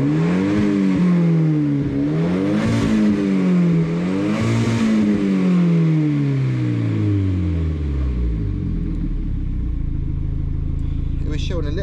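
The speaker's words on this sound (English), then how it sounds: "not in gear, just revving it" A Volvo car engine, out of gear and not under load, revs up and down in several swelling bursts, then settles into a low, rough idle; loud and close.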